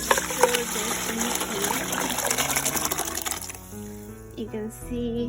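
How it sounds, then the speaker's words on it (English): Soup liquid seasoned with oyster sauce, fish sauce and lemon juice gushes steadily as it pours into a pot for a Thai-style soup, a continuous splashing wash that thins out near the end, with a voice talking over it. "So we're gonna take a pot and pour this in"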